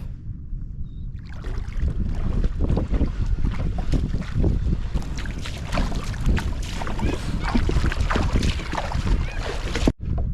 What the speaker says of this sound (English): It's not easy to drag this heavy kayak through it